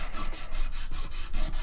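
A hand file rasping across fingernails with quick, even back-and-forth strokes, about five per second, steady and close up.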